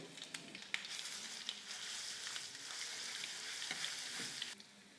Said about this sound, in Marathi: आता तेल मोहरी लसूण